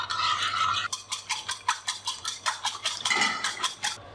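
Spice paste and egg batter whisked briskly in a bowl for an omelette pizza, a utensil scraping and clinking against the sides in a quick, steady rhythm of about a dozen close strokes with no talking.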